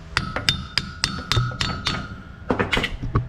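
Repeated hammer taps on a pipe spacer being driven into place, about a dozen sharp metallic knocks in an uneven rhythm, close and fairly loud, with no talking.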